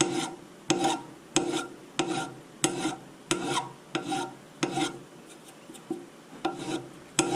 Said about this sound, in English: I've got a file. I'm just going to clean up. I just want to flatten this top piece